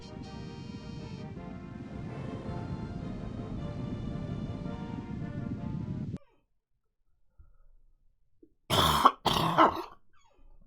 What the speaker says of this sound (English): As you can see, I still got a cough.